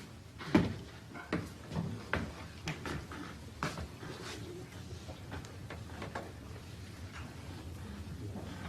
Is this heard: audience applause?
no